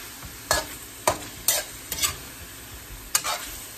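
Chicken wings soup being stirred in a pot, with five or six distinct scraping, sloshing stir strokes spaced about half a second apart over a faint background hiss, close and fairly loud.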